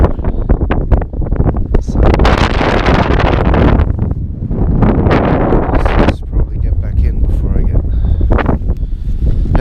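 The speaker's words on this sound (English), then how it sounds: "The weather's nice, but the wind is freezing." Strong, freezing wind at a campsite at Haugastøl blasts a nearby microphone, a loud continuous roar with gusting surges throughout.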